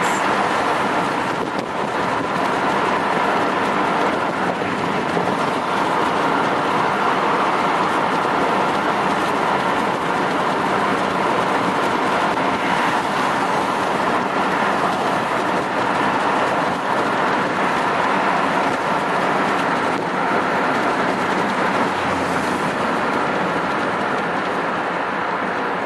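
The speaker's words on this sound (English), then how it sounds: "We're driving on Route 128 South, headed out of Gloucester, Massachusetts." A car cruising along Route 128 South heading out of Gloucester, Massachusetts, a continuous loud broadband road and engine roar with wind rush that stays steady throughout, no voices.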